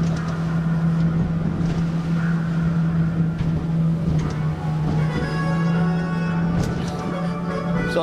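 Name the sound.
motorboat running at 17 knots on the Kenai River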